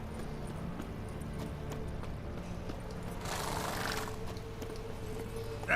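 The Witcher 3 horse Roach galloping with steady, moderately loud hoofbeats, accompanied by rustling movement and a brief swell of noise partway through.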